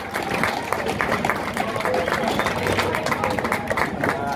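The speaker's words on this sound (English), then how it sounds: "Big round of applause, Wyatt Perez, and all of your top 3 in Formula Pacific." Scattered crowd clapping at a Sonoma Raceway podium ceremony for the Formula Pacific top three, moderately loud and steady, with voices murmuring underneath throughout.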